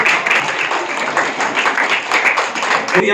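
An audience at a village ceremony for Babasaheb Ambedkar's birth anniversary claps steadily together, close and fairly loud, a dense patter of hands filling the moment with no speech over it.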